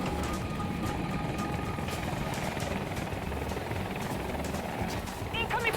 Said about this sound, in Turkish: önümüzde önümüzde helikopter